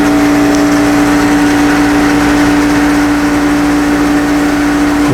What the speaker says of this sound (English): Listen to the motor. There she slows down.